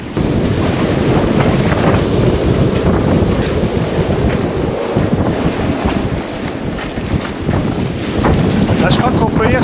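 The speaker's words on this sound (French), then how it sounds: "le coup de vent, épouvantable" A strong, relentless gale batters a sailboat, roaring wind noise buffeting close with surf and rushing water beneath, loud and unbroken throughout.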